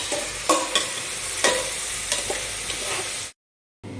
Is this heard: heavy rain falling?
no